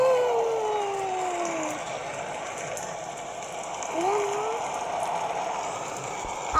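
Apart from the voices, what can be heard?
acid rain falling in Roblox video game Natural Disaster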